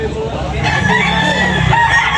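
A rooster crows loudly and close at a busy morning chicken market, one drawn-out crow over a background of clucking fowl and crowd noise.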